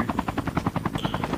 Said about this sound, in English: Alright, boys, I'm here. You want the chopper?